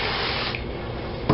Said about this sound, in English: I got to spray 3 pans with vegetable spray or whatever kind you like to use